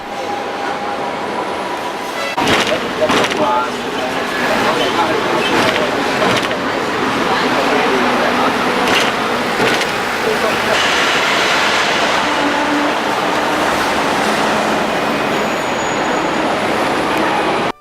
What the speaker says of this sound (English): When you're in Hong Kong, you have to go for a ride on one of the old trams.